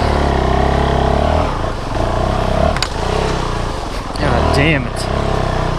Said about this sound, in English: At these low speeds, the engine is starving for air and the fuel injection system can't get the mixture right, so it stalls, and a lot.